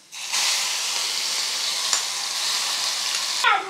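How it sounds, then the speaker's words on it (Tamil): Green chillies sizzle and crackle steadily in hot oil in a pan that has just had mustard seeds popped in it, a continuous close frying hiss with a few sharper pops and a stir near the end. "பச்சை மிளகாயை போட்டு நல்லா வதக்கிடலாம்."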